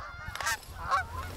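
A Canada goose honks in two or three clear, nasal calls during a September opening-day hunt in New Jersey, fairly close and alone without talk.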